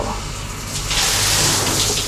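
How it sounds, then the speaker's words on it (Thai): Shower water runs steadily from the shower head of a seaside campsite bathroom at Hat Thian Thale, Sattahip, Chonburi, a loud continuous hiss that swells partway through. No one speaks. "ฝักบัว เดี๋ยวเราเทสน้ำก่อน"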